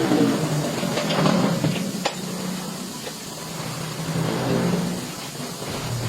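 An Isuzu engine idles steadily after a steering box repair and oil seal replacement, a continuous close mechanical hum with faint hiss and small clicks, no talking.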